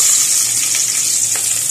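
Garlic and onion sauté in a hot pan, a loud, even sizzle that holds throughout with faint stirring clicks and no talk.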